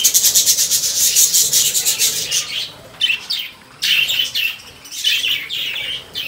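Lovebirds in a zoo aviary chatter with rapid, high-pitched chirps and squawks, dense and continuous at first, then in shorter bursts with brief pauses, fairly close and loud with no talking.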